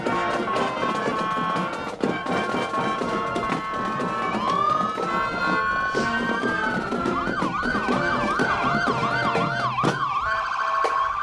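Sirens from Marion County Sheriff's Office specialty vehicles wail and yelp through a parade, sweeping up and down in a fast warbling pattern over a marching band playing loudly underneath, steady and close throughout.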